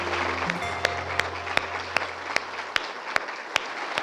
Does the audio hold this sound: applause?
yes